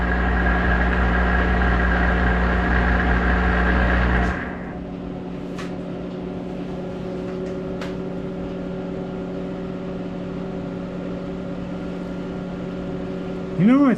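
A Monarch 10EE lathe runs steadily with its end gears rattling, a continuous mechanical hum and whir that drops in level partway through as the load changes, with a few faint clicks over the constant drone.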